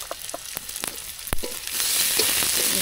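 Chopped tomatoes dropped into hot oil with browned onions in a pan, a few stirring clacks followed by a rising, steady sizzle that grows louder and fills the end.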